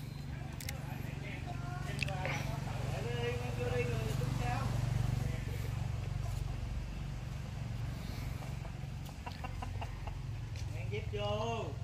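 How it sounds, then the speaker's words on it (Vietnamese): Chickens being caught outdoors in a garden, squawking and clucking in short agitated bursts as people talk nearby over a low, constant background rumble. "Lại bắt gà nè."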